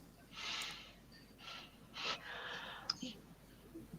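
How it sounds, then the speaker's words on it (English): Several close breaths drawn in sharply near the microphone on a livestream Q&A, soft hissing gasps coming in uneven bursts with quiet pauses between them. "I really can hear you breathing in"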